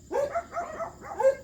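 A few dog barks ring out at a distance in a large backyard, three separate bursts spread over a second and a half, with no talking over them.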